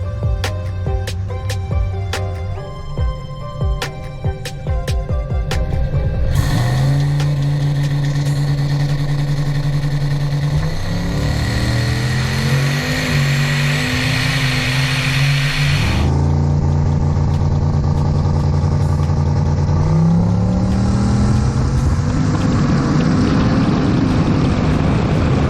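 A truck engine with Holley EFI revs hard during a street drag pass: low idle, then a sharp rise in pitch that climbs through shifts and falls back, loud and continuous with no talk.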